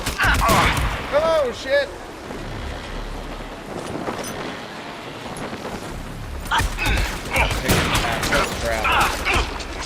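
Gunfire in a video game, with bursts of rapid shots and mechanical clatter coming in waves, loud and close, while a player shouts excitedly over the action.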